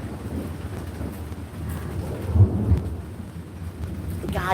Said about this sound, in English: we just got a big lightning